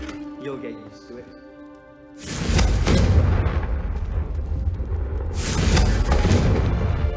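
Two heavy, roaring fire-spell blasts from Confringo in Hogwarts Legacy, loud and close, each swelling into a broad rumbling burst after a stretch of quieter game sound and voices.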